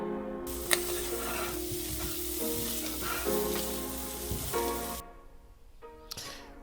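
Garbanzo beans with chili powder and black pepper sizzle steadily in a frying pan, with a few scraping stirs and a tonal hum underneath before the sizzle drops off near the end.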